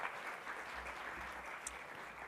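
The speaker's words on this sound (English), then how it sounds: "So join me in giving Dr. Dave Schramm a round of applause." A conference audience applauding a speaker, with dense steady clapping from a crowd, moderately quiet and continuous, with no talk over it.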